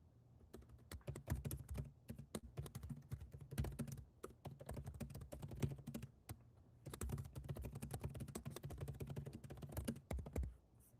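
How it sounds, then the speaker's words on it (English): Rapid clattering keystrokes on a computer keyboard, bursts of typing broken by short pauses, close and fairly quiet, with no one speaking. "just typing stuff out in there"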